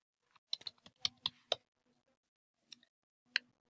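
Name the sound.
typing on a computer keyboard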